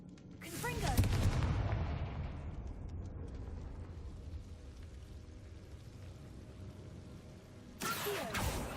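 A Confringo fire spell blast in the video game Hogwarts Legacy gives a loud burst and rumble, then fades to low background noise before a second sharp blast near the end, with a voice speaking briefly.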